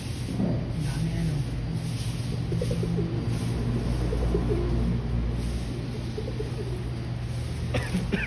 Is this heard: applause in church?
no